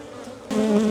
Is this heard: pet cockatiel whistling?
no